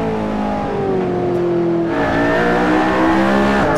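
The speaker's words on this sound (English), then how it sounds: "I really like the blow-off valve." A McLaren P1 race car engine in a racing video game drones with rising and falling revs and blow-off valve sounds, gear changes marked by a brief pause near the middle, steady and loud without talk.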